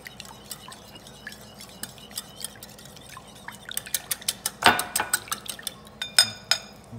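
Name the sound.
mixing whole wheat pancake batter in a bowl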